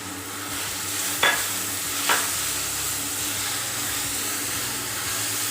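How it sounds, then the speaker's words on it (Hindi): Garlic ginger paste and tinda seeds frying in a pan, a continuous dense sizzle with a couple of brief scraping stirs, steady and close. "लहसुन अदरक का पेस्ट डाल के हम इसको अच्छे तरीके से भूनेंगे।"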